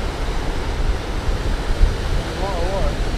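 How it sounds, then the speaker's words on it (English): Wind blows across a mountainside at night in a steady, rough rush of broadband noise, buffeting close to the microphone for the whole stretch. "as you can tell, the wind's got up as well"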